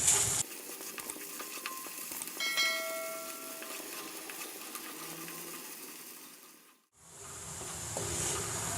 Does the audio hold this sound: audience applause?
no